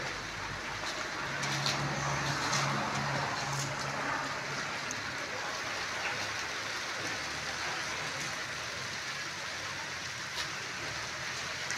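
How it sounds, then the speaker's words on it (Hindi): Heavy rain pours down in a dense, continuous hiss with scattered drops ticking on surfaces, loud and steady throughout, with a low hum underneath. "बहुत तेज बारिश है बड़ी तेज बारिश है"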